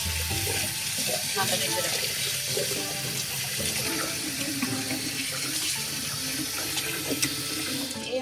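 Tap water running steadily into a kitchen sink while raw chicken pieces are washed one by one for methi chicken, a continuous splashing stream with small clatters, and someone speaking briefly over it.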